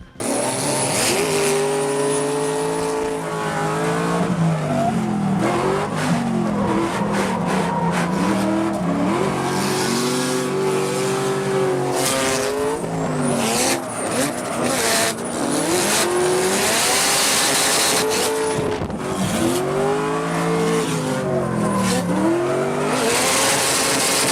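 Cars drift in tandem at the Hoonigan All-Star Bash, engines revving hard and tires squealing in a loud, continuous roar that swells and dips as they slide together, with no voices.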